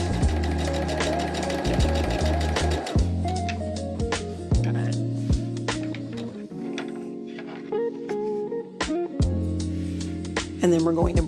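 A sewing machine stitches across a quilt block in short bursts of rapid mechanical chatter, stopping and restarting several times at close range.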